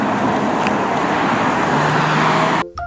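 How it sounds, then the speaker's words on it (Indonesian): Police car driving past on a road beside rice fields, a loud close rush of engine and tyre noise that builds and then cuts off abruptly. "ada mobil polisi"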